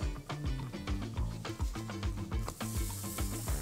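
A birria crunchwrap sizzles in a hot pan just after being flipped, a steady crackling fry with soft scraping and clattering movements, fairly quiet and close, with no talking.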